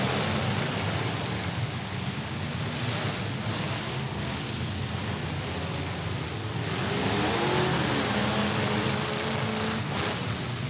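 A race car engine revved hard toward the red line at a dirt-track event, a distant rising and falling engine whine over steady crowd and wind noise, with no talk.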